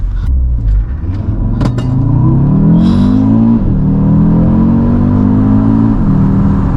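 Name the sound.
car accelerating with launch control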